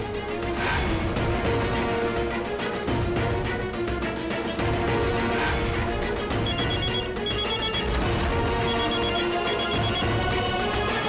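A telephone rings on and on unanswered during a wedding scene, its bell tones set within a loud, dense bed of music or dramatic score that runs throughout.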